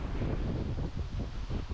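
Low, blustery wind rumble buffeting the microphone, steady and fairly loud for a couple of seconds, with no voices.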